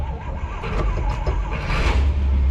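Buick Nailhead engine in an abandoned 1959 Chevrolet truck cranking and catching, a close rough rumble that firms up and grows louder as it settles into running.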